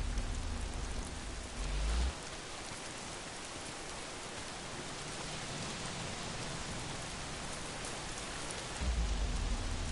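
Heavy rain in the Days Gone game pours down in a dense, steady hiss, with low rumbles at the start and end that could be distant thunder.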